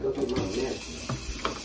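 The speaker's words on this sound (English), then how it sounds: "So I'm about to go ahead and just rinse off my pork chops" Water running from a kitchen tap while raw pork chops are rinsed, a steady close hiss and splash that continues through the whole short moment, with faint voice-like sounds underneath.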